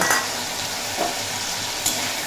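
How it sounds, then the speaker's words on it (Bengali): Ground spice paste thinned with a little water sizzles steadily in a pan for a soybean curry, with a few scraping stir strokes over the constant hiss, close and without voices. "দিয়ে খুব ভালোভাবে কষিয়ে নেব মশলা"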